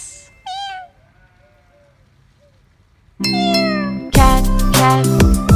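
A cat gives a couple of short, close meows against quiet, then a bright song with bell-like chimes and a steady beat takes over loudly.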